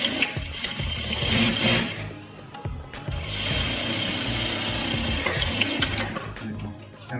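A sewing machine stitches the pocket of a pair of trousers in two steady whirring runs of about two seconds each, close up, with a short pause between them.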